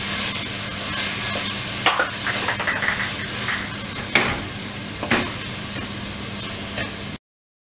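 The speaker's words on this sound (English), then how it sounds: "Cook the tomato till it is completely soft." Chopped tomatoes sizzling in a pan with ginger garlic paste for pav bhaji, a steady close frying hiss broken by a few sharp scrapes and clanks of a spoon stirring against the metal.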